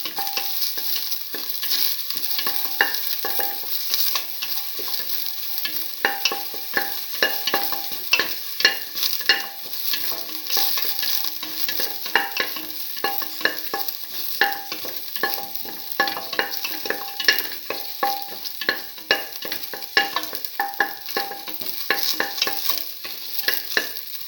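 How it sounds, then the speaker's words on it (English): Shallots tossed and sautéed in a pan, a steady close sizzle broken by frequent light clinks and scrapes of stirring, running continuously with no voices. "Toss till the shallots lose the pinkish color."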